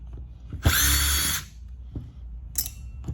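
A power driver briefly whirs as it backs a screw out of the case of a Traxxas MiniXRT RC truck, one loud burst of under a second, followed by a couple of faint clicks and handling noises.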